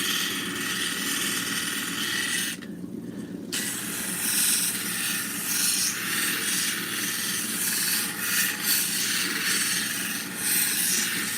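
Taos lepidolite stone being sanded and polished on a fine 3000 grit, a steady close rubbing and grinding hum that runs almost without break, with a brief quieter dip early on.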